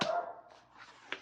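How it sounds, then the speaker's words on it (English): A dog indoors gives a short, sharp bark that trails into a whine, heard close and alone, followed by a quick second yip. "And I apologize for the barking dog."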